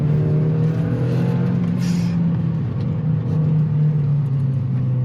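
Opel Astra Bertone with a 2-litre turbo engine pulling hard under acceleration, a steady, loud, droning engine note from inside the car that holds for several seconds with no talking.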